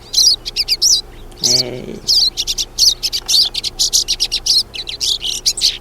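Pine siskins chirp rapidly and brightly in quick repeated bursts among dandelions, close and loud, while a voice briefly speaks once.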